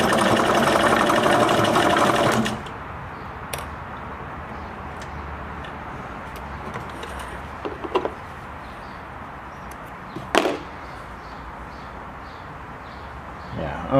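A Singer Merritt 2404 sewing machine runs a fast, loud stitching burst for about two seconds, then stops, leaving quiet room tone broken by a few faint clicks and handling knocks.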